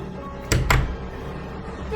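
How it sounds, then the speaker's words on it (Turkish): Two quick thuds in close succession as a door swings shut and latches, nearby, against a quiet background. "Kapa kapıyı kapa kapıyı"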